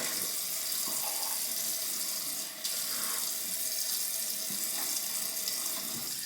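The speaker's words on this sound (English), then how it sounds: "let me get some water on the face" Running water from a sink tap, splashed up onto the face before a shave, heard as a steady close-up flow with small splashes and a brief interruption midway.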